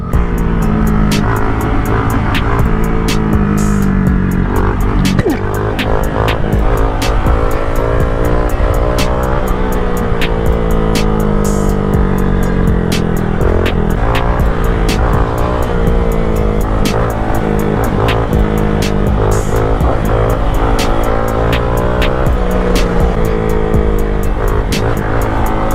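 A Honda Grom motorcycle revs while being ridden, its small engine rising and falling in pitch continuously and loudly up close, with wind noise and occasional clicks.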